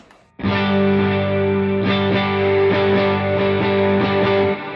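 Sustained electric guitar chords through AC30 and AC15 amp models with a clean boost ring out loud and full after a quiet start, with a few re-struck strums before fading slightly.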